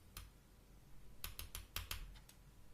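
Fingers tapping on a Samsung Galaxy Note touchscreen keyboard with an S Pen nearby, giving a quiet, irregular run of soft clicks, one early and then a quick cluster of several taps close up.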